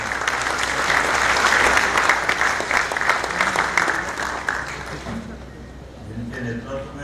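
An audience at a Madhya Pradesh political event for a drone policy announcement breaks into loud, dense clapping that holds for about five seconds, then fades as a voice speaks over the hall.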